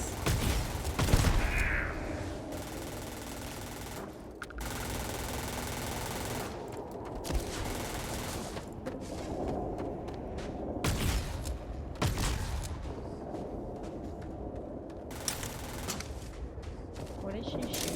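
Gunfire in the Starfield Shattered Space video game: repeated bursts of loud rapid shots and heavy blasts with short pauses, mixed under a game soundtrack and ambient effects.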